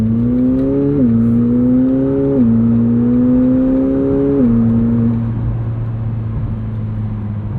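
A 2025 McLaren 750S with a 740 hp twin-turbo V8 and seven-speed dual-clutch gearbox, in comfort mode, pulls away with a smooth, steady drone that rises through gears in several stepped shifts before settling into a calmer cruise.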